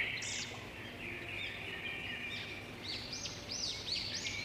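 A cartoon bird flies off from its cage with a string of bright chirps and tweets that grow busier toward the end, set over a soft steady background hum.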